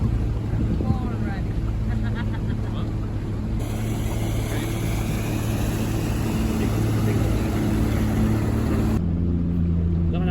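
A motorboat engine drones steadily on open water with wind buffeting the microphone, continuous and fairly loud throughout, with people talking over it.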